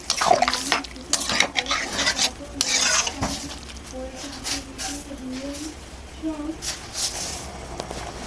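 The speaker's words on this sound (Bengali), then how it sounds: "আমি এখানে 3 বাটি পরিমাণ মতো জল দিয়ে দিলাম, দিয়ে একটু মিক্স করে নেব" Water being stirred into a pot of jackfruit and chicken curry, with spoon scrapes, clinks and wet sloshing up close while someone talks over it.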